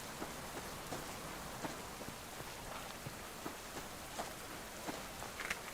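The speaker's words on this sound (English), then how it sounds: "Crap, it's raining." Steady patter of rain in the video game Subsistence falls across the whole stretch, soft and even, with scattered louder drops tapping through the hiss.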